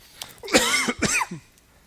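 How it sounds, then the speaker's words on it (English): Two harsh, throaty coughs from a keynote speaker in quick succession, close to the listener, with a brief raspy tail and quiet before and after. "sorry for the cough there in the thing."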